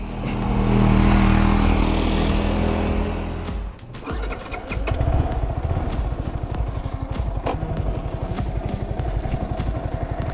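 A motorcycle works a steep mountain road at Sajek in Rangamati, its engine droning loudly, dipping briefly, then settling into a rapid, pulsing low-gear rumble.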